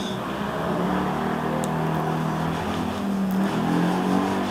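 Motorcycles passing on a nearby road outside a home, engines droning and rising in pitch as they go by at moderate distance, a steady motor hum filling the background without speech.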